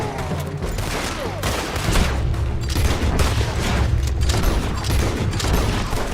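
Dense, continuous gunfire in a Red Dead Redemption 2 shootout, a loud rolling fusillade of overlapping shots with heavy low booms that runs without a break, no speech heard.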